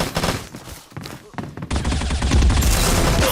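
Gunfire in the mobile shooter Bullet Angel, with scattered shots and thumps at first, then a dense, loud stretch of continuous rapid fire through the second half.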